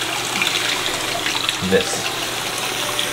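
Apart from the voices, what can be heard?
lukewarm water running while rinsing off honey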